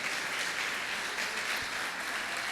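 A church congregation applauds during a Portuguese sermon, a steady, fairly faint wash of clapping that holds evenly for a couple of seconds.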